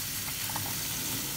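Pizza filling with red chilli and a quarter teaspoon of salt being stirred in a hot pan: a steady sizzle and frying hiss with soft scraping of stirring throughout, close and fairly loud.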